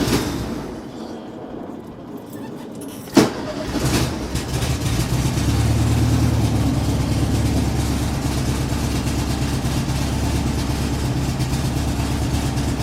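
A VW Bug engine thumps with a sharp knock, then revs up and holds a steady, loud, low drone, close by with no talk.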